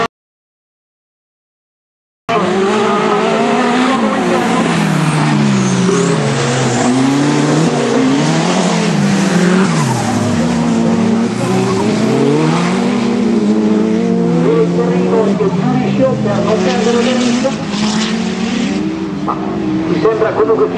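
Turbo-engined 850-class race cars battle through a final at Novellara, with high-revving engines rising and falling as they pass. An excited commentator talks over them almost continuously after a brief silent start.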